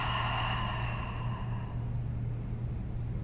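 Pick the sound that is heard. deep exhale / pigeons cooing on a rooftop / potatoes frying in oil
deep exhale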